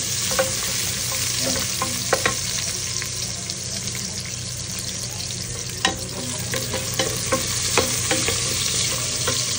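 Onions sautéing in a pan for beef caldereta, a loud, close, steady sizzle with occasional scrapes and taps of a spatula as they are stirred.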